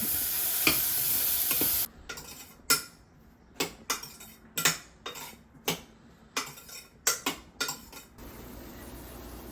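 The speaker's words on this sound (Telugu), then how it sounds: "మష్రూమ్, పొటాటో, క్యారెట్ అన్నీ కూడా వేసుకొని ఒక 10 minutes వీటిని వేరనిద్దాం." Mushroom, potato and carrot pieces fry in a pan under a steady sizzle, while a utensil scrapes and stirs in a dozen sharp, uneven strokes; no one speaks.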